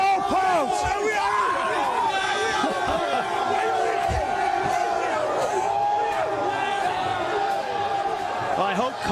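A packed college football stadium crowd at a Boise State versus Wyoming game roars and cheers continuously, a loud dense wall of voices with shouts and whoops throughout.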